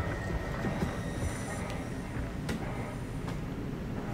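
A train passes in the video game Soma, a steady low rumble with rattling across the whole clip, holding at moderate loudness with a few sharper clanks and no voices.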